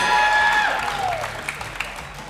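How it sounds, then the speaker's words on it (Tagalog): Studio audience applause on a quiz show, a brief burst of clapping over a host's voice and a fading musical sting, trailing off into scattered claps. "At Jen, palakpakan ng palakpak dyan."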